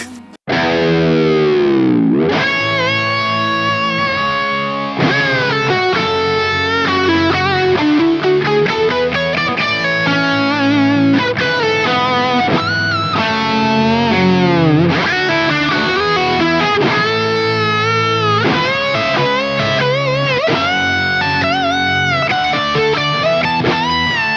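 Loud, saturated electric guitar with heavy distortion and effects, playing continuous melodic lines over a full rock band for the whole stretch.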